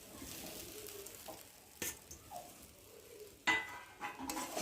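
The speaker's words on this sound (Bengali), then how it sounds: "একটু ভালো করে নেড়ে চেড়ে নেব।" Khichuri rice with spices and fried potatoes being stirred in a pan, heard as a low continuous sizzle broken by a few sharp utensil scrapes and clinks against the pan, close and without talk.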